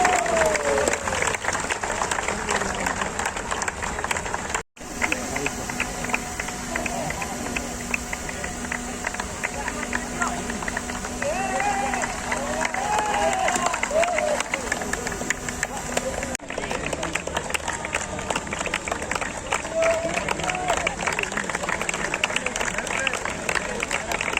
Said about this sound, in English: please give a huge round of applause for our runners-up team